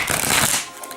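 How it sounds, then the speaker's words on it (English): A quick riffle of tarot cards being shuffled, a close, crisp burst of flapping card edges lasting under a second before tapering off. "I'm going to begin tonight just by shuffling the cards until I feel an energy shift"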